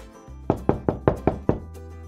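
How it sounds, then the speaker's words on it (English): Six sharp knocks rap on the door of the Liseberg theme park headquarters, evenly spaced and close, with nothing else heard. "a man with a hat knocked on the door of the headquarters of Liseberg."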